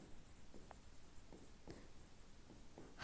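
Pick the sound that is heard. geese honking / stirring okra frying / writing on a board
writing on a board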